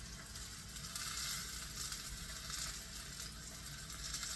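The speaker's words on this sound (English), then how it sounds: "So let me finish browning these" Beef short ribs brown in a hot pan with a steady, close, fairly quiet sizzle and frying crackle that holds evenly throughout, with no voices over it.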